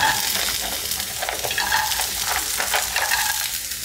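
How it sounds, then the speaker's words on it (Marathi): Carrots and corn kernels sauté in hot olive oil, a dense close sizzle with stirring scrapes running continuously, no voices over it. "गाजर आणि मक्याचे दाणे 2 ते 3 मिनिटं आपण परतून घेऊया तेलामध्ये."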